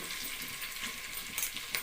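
Biryani masala sizzles and fries in hot oil in a pan, a steady close hiss with faint crackles and a couple of louder spits.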